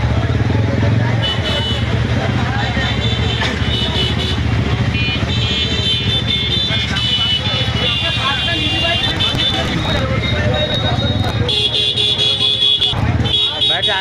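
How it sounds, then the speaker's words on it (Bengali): Heavy, rainy-day traffic jam on the road at Dargahpur, with motorcycle engines and car horns tooting through a continuous loud roar of vehicles and crowd babble. "আমি এত যানজট দেখি। আপনাকে দেখাচ্ছি, দেখেন"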